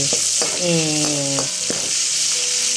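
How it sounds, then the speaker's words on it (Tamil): Masala sautés in a pan for macaroni with a continuous sizzle, while a voice talks over it. "இந்த சமயம் நல்லா வதங்கட்டும்"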